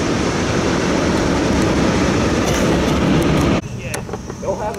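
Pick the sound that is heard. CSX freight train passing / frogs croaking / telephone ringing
CSX freight train passing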